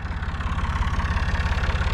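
A Massey Ferguson 255 tractor idles steadily in a field during alfalfa gathering, its low diesel engine throbbing in an even, close, continuous rhythm with no voices.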